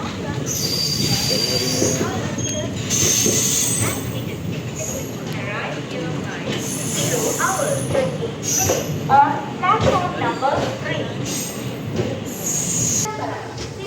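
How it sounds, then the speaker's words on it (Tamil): Passenger train on the Velankanni to Chennai service pulls out of Peralam Junction: a steady rolling rumble with repeated high wheel squeals throughout, and faint voices inside the carriage. "பேரளம் ஜங்ஷன்லேருந்து கிளம்பியாச்சு."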